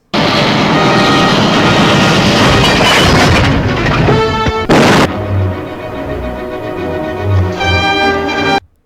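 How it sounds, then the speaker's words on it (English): Train in an old Superman movie serial, a loud clattering rumble of wheels and cars with sharp bangs and a hiss burst, heavy and continuous under a dramatic soundtrack. "There's a couple of times in these serials where Superman stops a train that are worth looking at"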